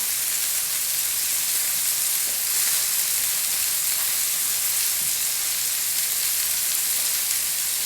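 Butter sizzles steadily in a very hot pan before steak frites are cooked, a loud, continuous, even hiss with no talking over it.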